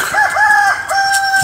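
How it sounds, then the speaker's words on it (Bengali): A native country rooster crows loudly and close by by a riverbank, giving a few drawn-out crowing calls one after another. "দেশি মোরগ।"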